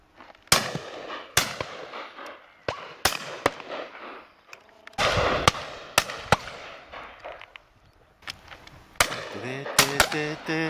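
Shotgun shots at pheasant and partridge on a driven game shoot, a string of sharp, loud blasts, some close together and some spaced apart, some heard alone and some over outdoor noise and faint voices.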